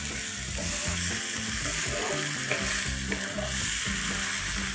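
Tomato puree stirred into vegetables frying in a pan for Maggi biryani, a steady loud sizzle with continuous scraping and stirring underneath, no pauses throughout.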